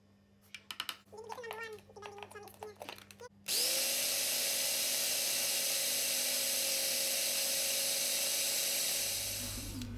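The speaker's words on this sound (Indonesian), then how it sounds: "saya maunya kelapanya lebih halus lagi ya, jadi mau saya masukkan ke dalam chopper" A food chopper grinds coconut meat with a loud, steady high whir that starts abruptly after a few seconds of clinking and handling, then runs unbroken to the end.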